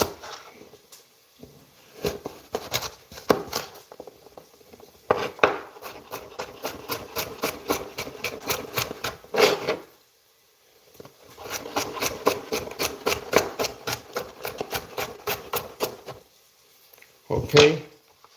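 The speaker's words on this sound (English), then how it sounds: "I'm gonna cut it." Food is chopped on a board while cooking, with quick rhythmic knife taps in long runs and short pauses, up close and mixed with voices talking.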